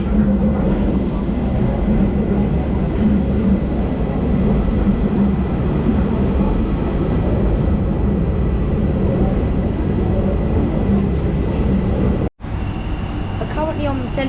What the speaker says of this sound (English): We'll be taking the Central Line train eastbound to Holborn